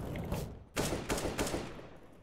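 Counter-Strike: Global Offensive gunfire on Dust 2: quick rapid bursts of shots, several sharp cracks in a row over a busy game background, close and loud.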